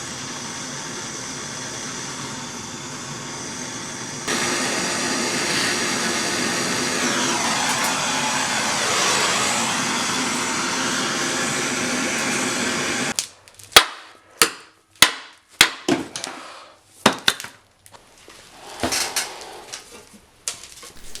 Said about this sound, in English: We're going to remove these just like the subframe bushings by torching,